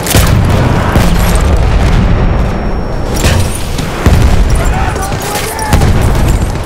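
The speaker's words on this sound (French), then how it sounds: "Attention, grenade." A grenade explodes in Battlefield 1 combat, a loud, heavy boom amid the chaotic crackle of gunfire. Further blasts follow in the noisy battle.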